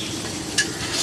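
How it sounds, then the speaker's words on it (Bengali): Mutton sizzles steadily in a pan as it is stirred and fried, a continuous close crackling hiss with one brief scrape of the utensil partway through, at a puja cooking setup. "দেখো কত সুন্দর মটন কষা হচ্ছে"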